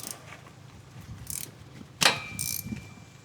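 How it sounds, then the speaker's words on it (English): Hand ratchet clicking in short bursts while loosening bolts under a Duramax truck, with a sharper metallic clank partway through, fairly close and quiet. "All right, we're going to get most of the bolts loosened and taken out."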